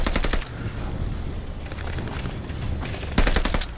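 Rapid automatic gunfire in the World War II shooter Call of Duty Vanguard, bursts of close, loud shots at the start, a sustained stretch of fire in the middle, and a heavy burst near the end.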